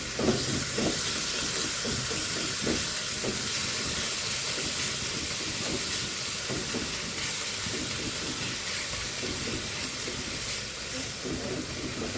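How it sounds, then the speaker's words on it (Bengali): Ginger and garlic sauté in a pan of hot oil with a dense, continuous hiss and crackle. Soft scraping sounds from stirring run underneath, and no voice is heard. "ভালো করে কষিয়ে নেবো আদা রসুনটা।"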